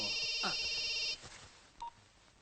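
An indoor telephone rings with a bright electronic trill for about a second, then stops, leaving faint clicks and a brief tone afterward.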